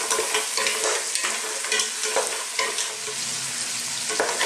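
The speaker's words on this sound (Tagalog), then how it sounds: "Haluin lang po natin sa mga 4 minutes." Mussels are stirred in a pot as tinola soup cooks, a steady sizzling bubble with repeated scraping and clinking strokes of the spoon, close and continuous with no talking.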